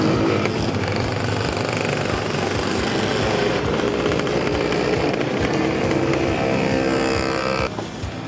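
A racing go-kart engine at the Oakleigh GKRC track during a heat of a kart race roars loud and steady and close, a continuous high-revving buzz that drops off near the end.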